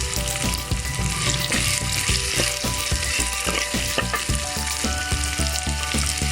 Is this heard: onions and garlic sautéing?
yes